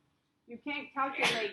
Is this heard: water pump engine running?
no